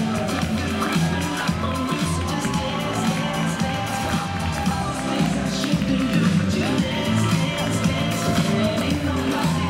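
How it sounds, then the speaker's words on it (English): A wedding reception crowd claps and cheers as the bride and groom make their entrance, a loud dense wash of applause, whoops and babble that lasts throughout. "let's have a big round of applause for Scott and Kristen Robertson."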